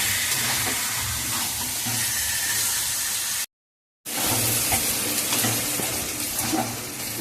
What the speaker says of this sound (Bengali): এবার আমি ভালো করে কষিয়ে নিই